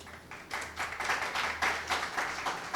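A large audience at a Jain religious discourse breaks into a steady round of clapping. The applause is dense and fairly close and keeps going evenly to the end.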